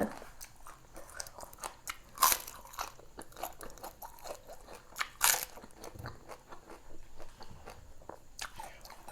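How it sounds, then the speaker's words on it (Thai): Crunching and chewing of a whole live crab eaten shell and all, its hard carapace cracking in loud close bites with sharp crunches standing out amid steady wet mastication. "บางตัวกระดองมันแข็งมากเลย"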